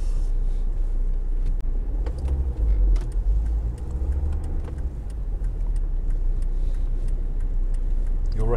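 Car driving through central London near Great Scotland Yard, with a constant low engine and road rumble, interior hum throughout and small rattles on top, steady and close.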